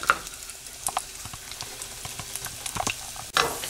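Dry chillies, coriander seeds and coconut roast and are stirred in a pan for sambar masala, a soft crackling sizzle with scattered scraping clicks of the spoon, close and moderately quiet.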